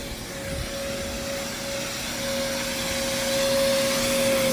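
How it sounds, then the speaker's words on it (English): A wet-dry vacuum roars steadily up close sucking out an AC drain line, with a constant high whine riding over the rush of suction, growing slightly louder toward the end. "And we are vacuuming out that one."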